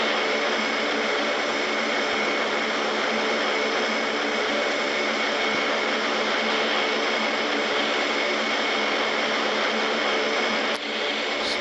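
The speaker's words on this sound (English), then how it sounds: "This plane is gonna overspeed." A passenger airplane in flight with its engines running at high speed gives a loud, unbroken cabin drone from start to finish, with a single brief click near the end.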